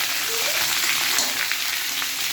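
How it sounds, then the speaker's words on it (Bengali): Pointed gourd (potol) pieces sizzling in hot oil in a pan, a steady crackling fry with soft spattering throughout, moderately quiet and close. "পটলগুলো এবার লাল লাল করে হালকা আগে ভেজে নিতে হবে।"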